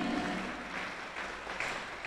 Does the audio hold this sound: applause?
yes